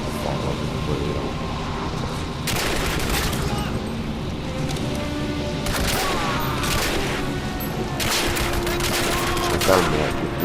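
Gunfire in the video game Turning Point: Fall of Liberty, repeated bursts of rapid shots over a constant rumbling game background, with someone talking over the action.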